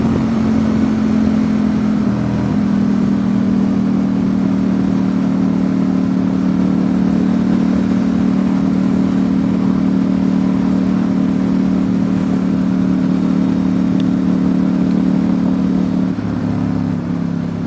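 A 2019 Ducati Diavel 1260 S motorcycle fitted with a Termignoni exhaust pulls hard under a loud, sustained engine drone that holds steady for a long stretch, heard close up without speech.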